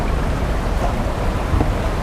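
A water stream near Keylong flows as a loud, steady rushing roar, close by and continuous for about two seconds with no voices.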